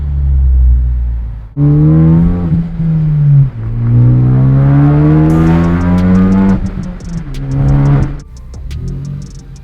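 A Ford Focus ST engine revs up through rising gears as the car pulls away and accelerates, loud and close, its pitch climbing and dropping between shifts, with no talking.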